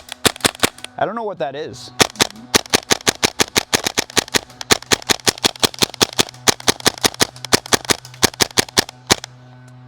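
A Tapp HPA-adapted airsoft PP2K fires uneven bursts and full-auto strings of sharp, loud, close snaps that end as the magazine runs dry, with a brief spoken remark early on.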